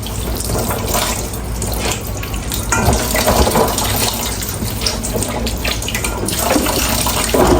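Tomatoes and okra are washed in water, with continuous close splashing, sloshing and trickling as the vegetables are handled, fairly loud and steady with no voices.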